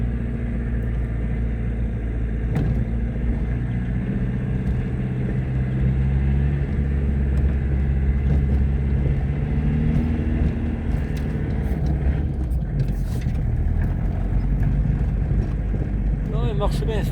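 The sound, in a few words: car engine running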